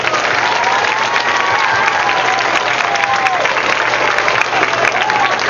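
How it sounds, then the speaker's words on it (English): An audience of children and adults at a school event claps loudly and continuously, a dense, even burst of applause with a faint cheer or two mixed in. "So let's give her a nice big round of applause."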